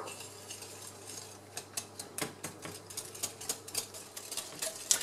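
Whisk or spoon stirring egg yolks with sugar in a bowl for a lemon tart, a quick steady run of light clinking taps against the bowl, close and alone.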